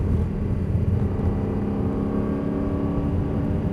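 A car engine pulls away gently on a very wet, slippery road, a steady low rumble and whir heard from inside the cabin with only slight rises in pitch, continuous and fairly loud.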